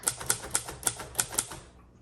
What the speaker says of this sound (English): And this is a really good typewriter.